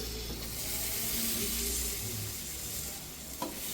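Chopped tomatoes hit hot oil and fried spice powders in a pan for Kerala-style rasam, producing a loud, continuous sizzle and hiss with stirring scrapes, close up and with no talking.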